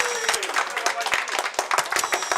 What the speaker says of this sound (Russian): Ну что же, аплодисменты